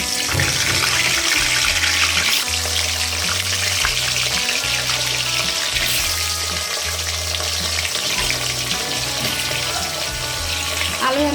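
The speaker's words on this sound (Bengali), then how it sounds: "হাঁড়িতে গরম তেলের মধ্যেই আলু দিয়ে দিব আলুটা ভেজে নিব" Potatoes frying in hot oil in a pot for chicken biryani, a loud continuous sizzle with stirring and watery crackle, while a low rhythmic hum pulses underneath.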